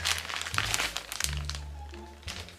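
A plastic bag crinkles and rustles up close as a wig is unpacked, in uneven bursts of crisp crackling with a few soft thunks, and nobody talks.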